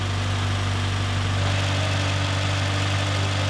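A DSM car engine with a blown head gasket idles steadily, a strong low droning hum with a constant mechanical vibration running unbroken throughout.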